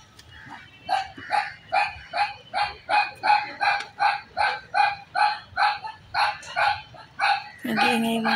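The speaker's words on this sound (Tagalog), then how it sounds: "Nag-iingay yung mga aso." Dogs bark in a rapid, evenly spaced series of about fifteen sharp barks at moderate distance near a hillside stairway, followed by a louder burst of mixed noise at the end.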